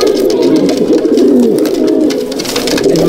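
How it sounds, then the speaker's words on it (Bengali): Fulshira breed pigeons coo close up in a loft, a rolling chorus of overlapping throaty calls that carries on steadily without pause. "এই পায়রা আমার হাতেই তৈরি, আমার ফুলশিরা পায়রা"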